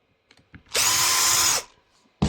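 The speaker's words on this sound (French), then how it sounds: "on va dévisser la carte" A power screwdriver unscrews a circuit board from a Parkside Performance X20V grinder, giving one loud, close whirring burst of just under a second between faint handling clicks, then a sharp thud at the end.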